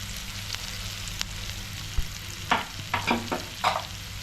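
Papadam and curry leaves fry in oil in a pan under a steady soft sizzle, and a utensil stirs and scrapes close by in several distinct strokes toward the end.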